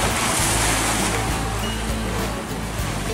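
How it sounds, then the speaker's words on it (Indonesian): Strong ocean waves at Woong Rame beach make a continuous loud roar of surf, with wind buffeting the microphone. "suara ombak bergemuruh"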